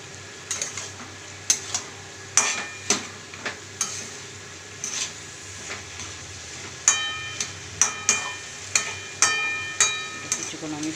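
Potato curry with fried lentil dumplings and prawns is stirred in a pan, the spoon scraping and knocking against the metal in repeated strokes over a soft steady sizzle.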